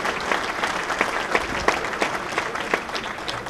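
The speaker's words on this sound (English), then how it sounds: "Let's give the staff a nice round of applause." Guests at an oldtimers baseball banquet in a hotel give the staff a round of applause, a steady, moderately loud clapping from a room of people.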